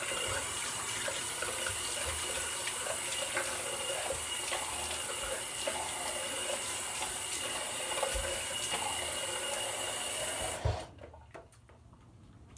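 A tap runs steadily into a sink as water is used to wet the face before a shave, a close, continuous splashing rush that cuts off abruptly near the end, leaving quiet.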